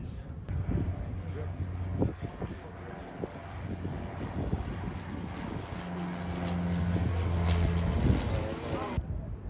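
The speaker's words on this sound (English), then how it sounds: "there goes the Empress of the Seas" Cruise ship Empress of the Seas sailing past in the Caribbean, a steady low engine hum and deep horn-like tones under wind and water noise, with people talking nearby throughout.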